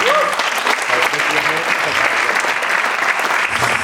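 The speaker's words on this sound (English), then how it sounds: "So that's a big round of applause for them" Audience gives two kids a big round of applause, dense, loud clapping from many people that holds steady throughout with no pauses.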